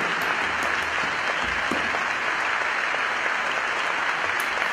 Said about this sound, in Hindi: चलने दो तालियां यार